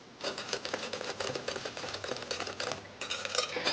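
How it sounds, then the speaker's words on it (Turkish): A wire whisk beats eggs and sugar in a bowl, rapid rhythmic metallic clicking and scraping close up, steady and brisk with short bursts, no talking. "böyle bir tel çırpıcı yardımıyla yumurta ile şekeri güzelce çırpıyoruz"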